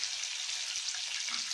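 Chopped tomato and onion hitting a hot pan, a soft continuous sizzle of frying, fairly quiet and alone.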